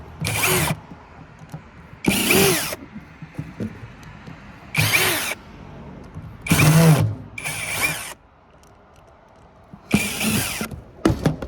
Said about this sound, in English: Just gonna take all the screws out first.